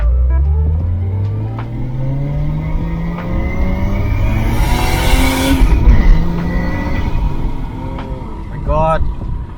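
Jeep Cherokee XJ fitted with a turbocharged 1JZGTE engine accelerating hard under boost, its engine note rising steadily in pitch over several seconds with a turbo whoosh and road noise, voices talking over it.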